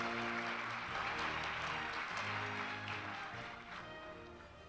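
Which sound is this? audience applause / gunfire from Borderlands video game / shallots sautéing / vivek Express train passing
audience applause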